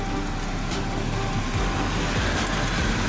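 Road traffic on Killer Road in De Rosario rumbles past at close range, a dense continuous low engine drone with passing vehicles and no talk.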